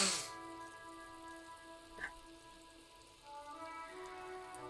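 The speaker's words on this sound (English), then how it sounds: "Rain falls on the great city of Revachol. Rain drips from the eaves and floods the gutters" Steady rain falls across the city of Revachol in the Disco Elysium video game, a soft continuous patter under faint ambient tones, with no voices.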